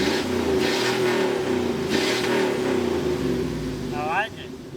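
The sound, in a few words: LS V8 engine in Miata kart starting and revving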